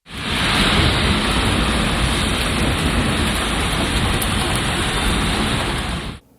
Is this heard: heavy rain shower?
yes